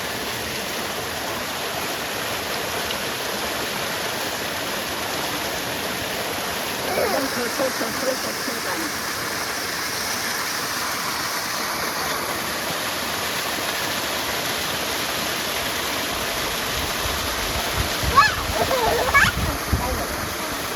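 Clean stream water flowing steadily outdoors, a constant close rushing wash that runs unbroken throughout, with faint voices and a few brief splashes near the end.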